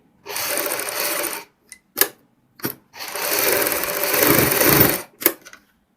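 A sewing machine stitches a neck cut with buckram in two bursts of fast mechanical whirring, separated by short clicks and knocks as the fabric is adjusted, close-up and without talking.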